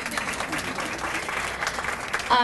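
An audience at an annual women's awards event breaks into steady applause, a dense wash of many hands clapping at moderate loudness throughout.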